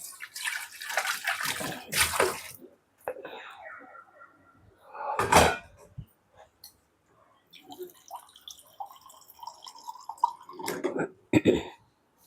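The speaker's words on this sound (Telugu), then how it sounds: "మనం ఇప్పుడు ఇందులో కొంచెం వాటర్ వేద్దామండి" Water splashes and gurgles into a pot of sea-fish curry in a few separate pours, with clinks of utensils between them.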